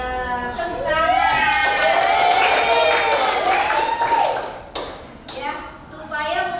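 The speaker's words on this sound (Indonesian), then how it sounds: "Tepuk tangan." A school class in an Indonesian lesson claps hands in sharp, uneven bursts while children's voices ring out loudly over and between the claps.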